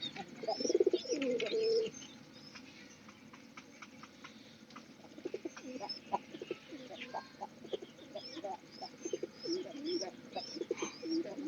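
Pigeons coo softly and close by, with a burst of low throaty cooing at the start followed by scattered clicks, faint chirps and further quiet coos.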